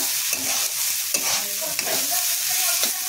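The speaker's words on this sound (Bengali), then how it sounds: "এবার হালকা ভেজে নিয়েছি" Ingredients lightly frying in a pan for Bengali muri ghonto made with katla fish head and gobindobhog rice, a close, steady sizzle with repeated scraping stirs and soft knocks of a spatula.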